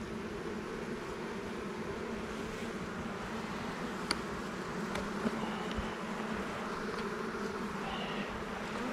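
Honeybees buzz steadily around a starving hive in a beefy backyard apiary, a dense continuous drone that stays close and even throughout, with a few faint clicks and knocks on top.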